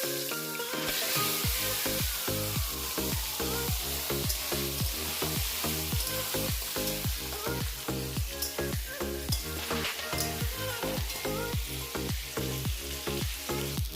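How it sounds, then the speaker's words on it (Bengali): Steady loud sizzling of potatoes frying in mustard oil, with repeated rhythmic scraping of a utensil stirring throughout. "তেল দিচ্ছি কড়াইয়ে, আলুটা ফার্স্টে ভেজে নেবো। আলুটা দিয়ে দিচ্ছি"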